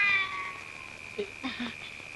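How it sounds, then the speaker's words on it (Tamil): A cat gives two or three short meows close by, separated by brief pauses, over a faint steady high background whine. "இது பூனை, இது கூட பரவாயில்ல"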